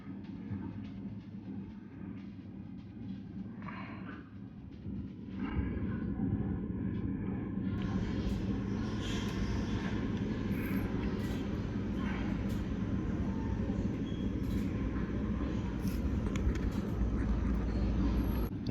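A train rolls past close by, its low steady rumble swelling after a few seconds and then holding loud and continuous to the end, drowning out the surroundings.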